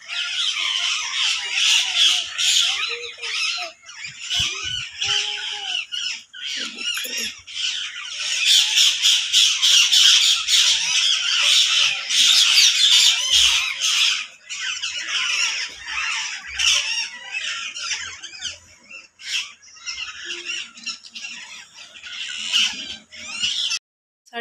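A flock of many parrots squawking, with harsh, overlapping calls that come in dense bursts nearly throughout, loud and close, with brief gaps between outbursts.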